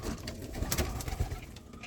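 Pigeons coo softly in a loft, the low murmuring calls overlapping under a dense, rustling background noise throughout the short stretch.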